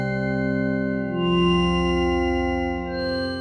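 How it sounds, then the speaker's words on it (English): Prophet VS synthesizer patch voiced like a synthetic pipe organ, sustaining a thick, steady chord of stacked harmonics that swells slightly midway and holds, loud and alone with no talk. "Kind of our take on a synthetic pipe organ."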